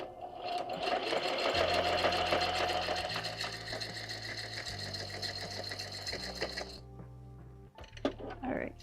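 A sewing machine stitches art papers into a junk journal, its steady rapid whirring running in bursts with brief pauses, close and clear, while someone talks over it.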